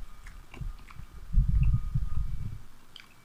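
Someone bites and chews toasted bread dipped in coffee, with a few soft crunchy bites followed by a stretch of close, wet mastication that fades toward the end; no talking.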